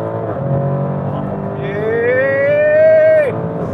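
A Lamborghini Urus V8 engine roars and climbs in pitch as it revs up hard, loud and close, then drops off abruptly near the end.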